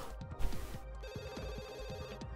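An in-game telephone rings in repeated electronic bursts in Desiderata Valley, with short warbling trills over a low background hum, fairly close and clear, and no voices.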